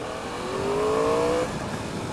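A 2015 Yamaha R1 motorcycle accelerating hard off the mark on a road, its engine note rising steadily and loud for about a second before easing off.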